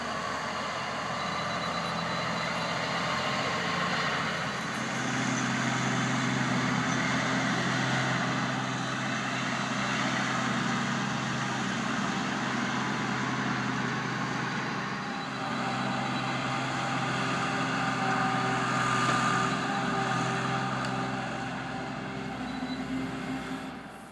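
An excavator engine runs steadily while fine grading a house excavation, a continuous low diesel drone with mechanical rumble that swells and eases slightly, close and moderately loud, with no one talking.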